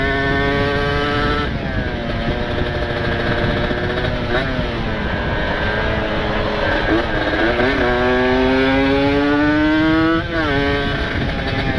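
A motorcycle with a specially ported engine and open exhaust revs and holds a loud, raspy drone, its pitch rising and falling across several throttle sweeps with one brief dip, close and continuous.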